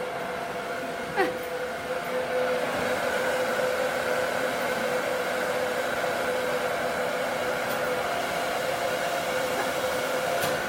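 A hair dryer with a YS Park diffuser attachment blows a steady, even whoosh with a constant whine, running close and uninterrupted for the whole stretch.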